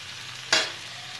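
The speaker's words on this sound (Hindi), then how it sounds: "मैं यहाँ पे लीड को ओपन करूँगी और इसे स्टर करूँगी।" Spiny gourd frying in a pan gives a single brief stirring scrape and sizzle burst that fades quickly, against a quiet low hum.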